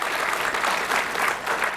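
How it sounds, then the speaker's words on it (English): An audience at a panel event gives a round of applause, a steady wash of many hands clapping at moderate distance, continuous and evenly sustained throughout the brief moment. "Please, another round of applause for Kate."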